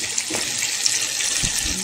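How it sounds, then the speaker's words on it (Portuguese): A radio-style sound effect for food frying that sounds much like running tap water, a continuous close, bright splashing hiss with a few soft knocks. "Esse aqui é fritura"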